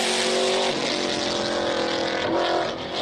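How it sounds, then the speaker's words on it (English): Nissan 350Z race car on a hill climb, engine loud and close as it accelerates, pitch climbing through gears with a brief drop at each shift, then receding slightly at the end. "And the 350Z is going."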